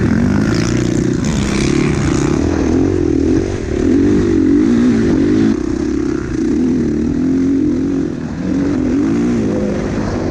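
A motorcycle engine drones loud and steady while riding on throttle, a dense, continuous roar with slight rises and dips in pitch and no speech.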